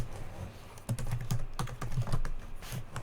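Computer keyboard typing with irregular bursts of clicking keystrokes, close and fairly quiet, with no talk over it.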